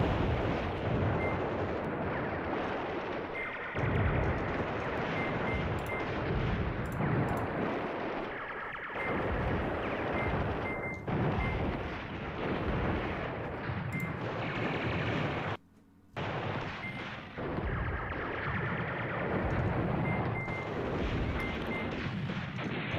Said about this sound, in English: the regiment is moving up through enemy artillery fire